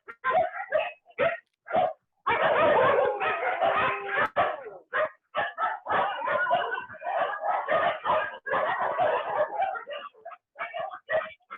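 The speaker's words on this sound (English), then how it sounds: "this is where we have all our permanent resident dogs" Permanent resident dogs at an animal rescue shelter bark, yip and whimper in overlapping bursts, a chorus of several dogs close by with short gaps between barks and no talking.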